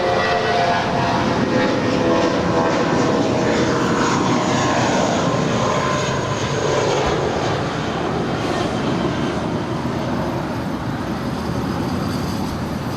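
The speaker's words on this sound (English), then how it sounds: "Captain JC is now starting his taxi on down to the 25s." Airliner taxiing on the ground at Los Angeles LAX airport toward the 25 runways, a loud steady engine roar and whine that holds continuously from start to finish with no voices.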